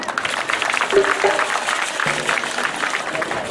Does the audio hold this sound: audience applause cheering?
yes